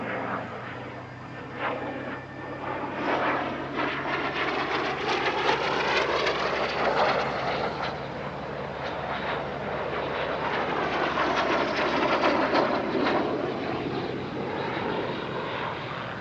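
Aerobatic team aircraft flying formation loops and synchronized barrel rolls at the Air Legend airshow in Paris-Villaroche, a steady loud engine roar that swells and shifts in pitch as the planes pass, with no talk.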